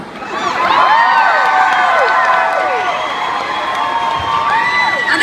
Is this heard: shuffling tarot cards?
no